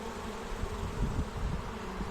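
Honeybees fan their wings at the hive entrance, making a steady, close, moderately loud low buzzing drone that swells slightly and continues without a break. No voices.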